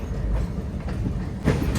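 A train moving past at Chennai Central station on its way to maintenance, a steady rumble of wheels and carriages with rail clatter that swells near the end.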